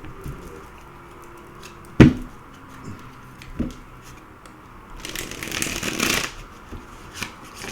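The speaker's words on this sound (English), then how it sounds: "let me shuffle these cards" Cards shuffled close up, with a sharp knock early on, then a dense burst of riffling near the end.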